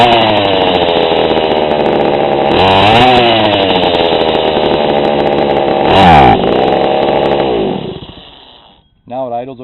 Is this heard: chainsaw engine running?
yes